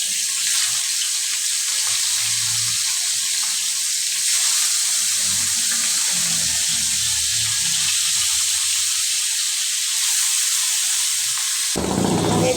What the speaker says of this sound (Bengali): মাছ ভাজবো যেহেতু, আমি কিন্তু কড়াইতে মাছ দিয়ে দিচ্ছি।